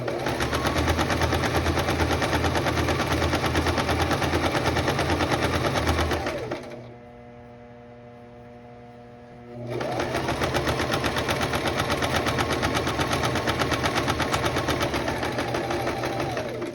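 A sewing machine stitches a dress seam in a fast, loud, continuous rattle up close, stopping for a few seconds of quiet hum before running again just as steadily.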